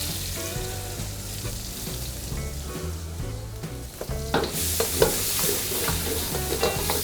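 Onion fries in a pan for a spider crab and prawn stew, a steady close sizzle with scraping stirs that grow louder and busier toward the end, no voices.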